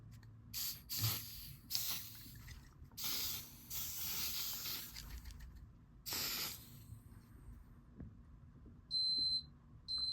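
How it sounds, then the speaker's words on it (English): Bursts of smoke test aerosol spray hiss in short repeated puffs at a Discovery optical smoke detector, followed near the end by a high electronic beeping tone from the fire alarm system. "I'm gonna test the Discovery optical detector with some smoke."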